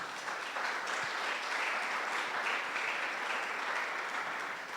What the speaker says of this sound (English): Can we just have a round of applause for the speakers?